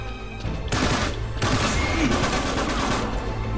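Rapid gunfire and booming explosions from a co-op firefight in the video game Uncharted 3, a dense continuous barrage of shots and impacts that stays loud for the whole stretch with no talk over it.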